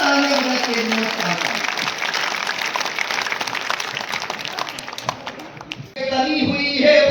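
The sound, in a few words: applause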